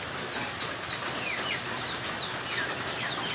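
Chickens cluck and chirp faintly over a steady background hiss, with soft scattered calls throughout.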